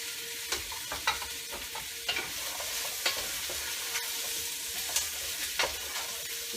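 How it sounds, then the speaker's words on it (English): Vegetables browning in a soup pot give off a steady sizzle and frying hiss, broken by repeated scraping clicks as they are stirred close by; no one speaks. "Here it's sizzling there."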